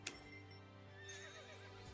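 A horse neighs briefly in the video game Dynasty Warriors Origins, in a quiet, slightly synthetic setting with a faint steady hum underneath, no voices.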